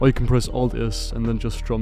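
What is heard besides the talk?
No distinct noise like a dog, phone or traffic.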